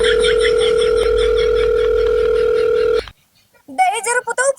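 A phone call rings out unanswered, a long continuous ringback tone lasting about three seconds, then breaks off into a short silence before a voice starts talking up close.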